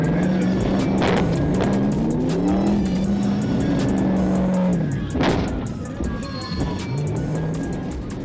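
Cars in a street race in Georgia roar past with revving engines that climb and fall in pitch, tires squealing as they pass close and loud, then fade slightly toward the end.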